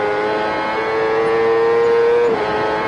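A CART Indy race car lapping the 1996 Toronto street circuit heard from on board, its engine a sustained high whine with a rising tone near the middle before it drops off toward a tight right-hand corner.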